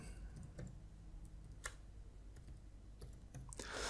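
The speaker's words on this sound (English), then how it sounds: "I'm going to type in digital nomad." Someone types on a computer keyboard, giving a few scattered, fairly soft keystroke clicks spread over a few seconds with no talking.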